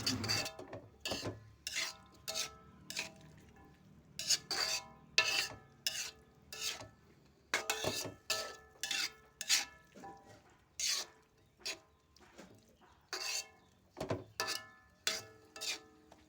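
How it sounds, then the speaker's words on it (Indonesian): Rice vermicelli seasoning mixture being stirred in a pan, a steady run of rasping, scraping strokes of a utensil against the pan surface, repeated rhythmically and close up with no talking. "Lalu kita aduk-aduk lagi sampai matang, sampai tercampur rata semua bumbunya."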